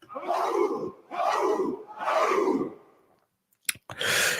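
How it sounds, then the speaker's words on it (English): A crowd bellows three loud, drawn-out group shouts as a traditional show cheer for a 700th episode, each burst about a second long with short gaps between, followed by a brief clatter and another swell of voices. "you're free to mark the occasion with our traditional cheer, which sounds like this"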